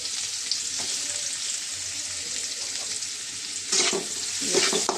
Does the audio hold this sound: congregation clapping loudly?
no